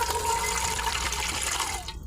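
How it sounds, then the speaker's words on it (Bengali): Lukewarm water is poured into salt for rice-flour chitoi pitha batter, a short steady splashing stream that cuts off abruptly near the end. "লবণের ভিতরে এখন পানি দেওয়া হচ্ছে"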